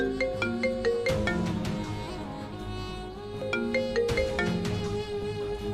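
A melodic phone ringtone from an incoming call plays steadily and fairly loud, a repeating tune of bright plucked notes over a backing beat, with no voices over it.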